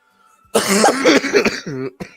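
A single close, harsh cough burst with a short follow-up hack, loud and abrupt after a moment of near silence.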